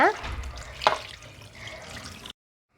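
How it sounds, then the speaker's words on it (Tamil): Tap water runs steadily into a sink as raw chicken is rinsed for a grilled chicken recipe, with a brief splash partway through, close and moderately loud before cutting off. "அதுக்கப்புறம் நல்லா 3 டைம் நல்லா தண்ணி போட்டு நல்லா அலசி கழுவி ஊற்றுங்க."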